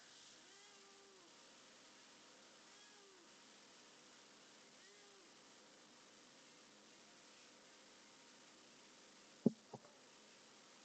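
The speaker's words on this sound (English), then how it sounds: "The cat has arrived." A cat meows softly three times in close succession, each call short and rising then falling, faint against a quiet steady hiss, followed later by a couple of sharp clicks.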